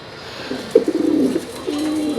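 Rajgolla pigeons coo close by in a soft, throaty rolling burst, followed by a second lower coo after a short pause.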